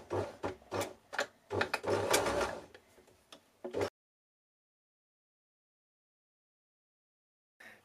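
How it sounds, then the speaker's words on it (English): A sewing machine zigzag stitches elastic on gauntlets in short bursts of rapid mechanical chatter for a few seconds, close by, then stops into silence. "I'm going to zigzag stitch again on the outside"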